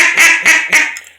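A double reed duck call quacking in three loud, nasal honks at an even pace, close and alone, the last one trailing off quieter.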